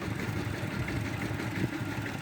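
A tractor engine idles in a rice field, a steady, close mechanical rumble running without pause or change in loudness.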